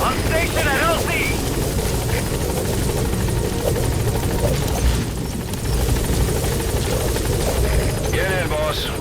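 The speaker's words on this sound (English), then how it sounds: "helicopter has arrived" In Metal Gear Solid V: The Phantom Pain, a helicopter comes in to land at the landing zone with a loud, continuous rotor roar. Short bursts of radio voice chatter cut in near the start and the end.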